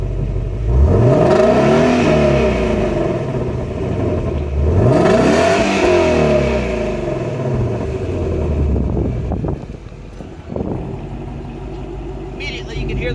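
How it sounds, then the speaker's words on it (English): A 2016 Shelby GT350 Mustang with mufflers opened in sport mode revs repeatedly, its exhaust growl swelling and falling in two big throttle blips, then settling to a lower rumble near the microphone. "Then we'll kick it over to sport mode, which opens up the mufflers and gives it a more healthy growl."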